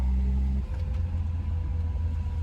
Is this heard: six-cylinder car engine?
yes